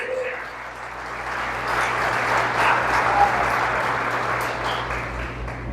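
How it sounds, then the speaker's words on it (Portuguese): A large church congregation applauds steadily and loudly for several seconds, a dense wash of clapping with a faint low hum underneath. "Aleluia, aplausos o Senhor Jesus."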